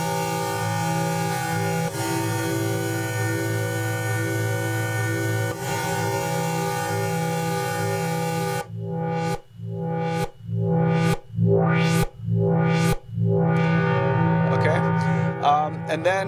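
A sustained sample drenched in rich, high-quality reverb with its filter removed, a loud harmonic drone that then breaks into rhythmic gated pulses with reverb tails.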